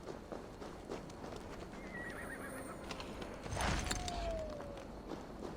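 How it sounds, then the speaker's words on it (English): Horse whinnying and clip-clopping hooves in the video game Assassin's Creed Valhalla, hoofbeats steady throughout with a neigh rising out clearly near the middle over a soft outdoor ambience. "Now to deliver Magni his horse."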